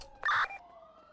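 A police car siren in a video game gives one short, loud electronic whoop lasting under half a second, then trails off into a faint lingering tone.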